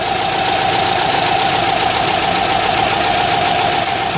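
Toyota Camry engine with P0302 and P0351 misfire codes idling steadily during a cylinder balance test, a close, loud continuous hum with a rough mechanical texture and a persistent tonal whine.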